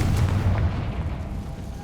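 A Confringo explosive curse spell goes off in the Hogwarts Legacy video game, a loud booming burst with rumbling low-end blasts that roll on and slowly fade across the moment.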